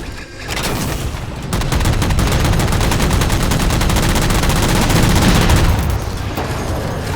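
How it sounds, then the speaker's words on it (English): Sustained, rapid automatic gunfire in Halo 4 rattles on for several seconds as jammers are shot down, loud and dense with booming impacts, continuing without pause and easing slightly near the end. "Shoot them down."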